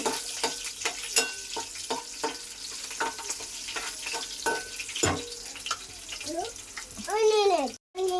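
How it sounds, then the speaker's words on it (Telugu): Sharp crackles and pops of garlic frying in oil, with repeated stirring clinks and a brief rising squeal near the end. "ఇంక ఎల్లుల్లిపాయ కూడా వేగింది."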